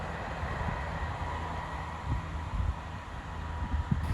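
A train running on the line to Aberdeen gives a steady low rumble with faint wind noise, a continuous moderate drone with small rhythmic bumps and no speech.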